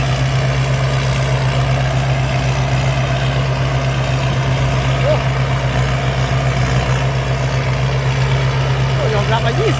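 A 20-year-old Thai combine harvester engine runs at a steady low idle with a constant drone and a faint high whine, while a voice talks over it.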